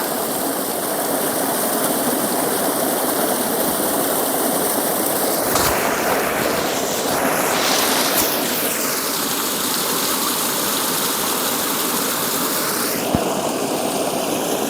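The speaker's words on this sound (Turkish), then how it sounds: "su sesi" Stream water flows steadily through a snowy valley, a broad continuous rushing wash that stays fairly loud and even throughout, with a few brief shifts in texture partway through.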